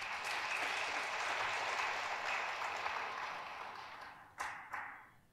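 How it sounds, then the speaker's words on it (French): A congress audience applauds in a large hall, a thick, steady roar of clapping that fades toward the end, followed by a couple of sharp isolated claps. "Je vous demande de l'applaudir"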